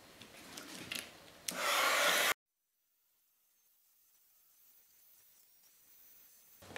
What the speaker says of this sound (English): Putting as much on here as I can to heat up and blow over that white and clear.